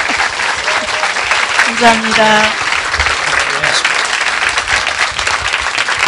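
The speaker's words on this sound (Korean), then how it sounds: "여러분 큰 박수 주십시오." An audience at a Korean benefit concert for restoring the broadcast of PD Su-cheop gives sustained, moderately loud applause throughout, and a brief spoken thanks comes through the clapping.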